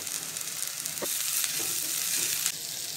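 Onion and green chilli sautéing in a pan for egg paniyaram, giving a steady close sizzle with a few soft scrapes and taps from stirring, and no voices.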